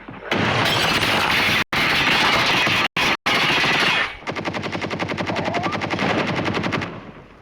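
Automatic gunfire from the mobile shooter Call of Duty Mobile in a battle royale duo match: loud, dense bursts with short gaps, then a quieter, rhythmic rapid-fire stream that fades at the end.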